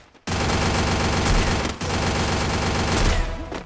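Rapid automatic gunfire in the Free Fire battle game, a loud sustained burst of shots that breaks off briefly, then resumes and runs to the end.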